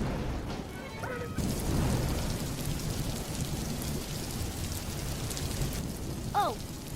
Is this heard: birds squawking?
no